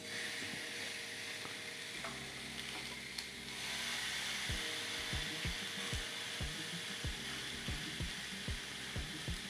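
A flat iron steak sizzles on a Ninja Foodi Grill under a steady frying hiss. A clunk of handling comes partway through, then a series of sharp, irregular ticks and taps.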